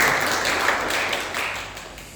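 Church congregation at a Sunday worship service in Bali clapping to welcome a visiting church member from Korea; a dense, even wash of many hands, moderately loud and diffuse in the hall, slowly fading.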